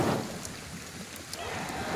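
Rain and thunder from the video game Ghostwire: Tokyo, with a steady wash of falling rain and low rolling rumbles underneath at a moderate level, no speech.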